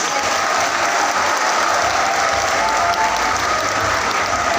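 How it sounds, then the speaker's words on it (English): A graduation audience at Lourdes National High School applauds parents and guardians, with steady, dense clapping from a large crowd sustained throughout. "Graduates, what about giving your parents and guardians with a round of applause?"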